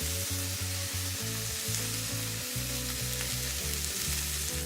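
A steak sears in olive oil in a Williams Sonoma copper pan, giving a loud, unbroken crackling sizzle up close over a low rhythmic hum, with no voices.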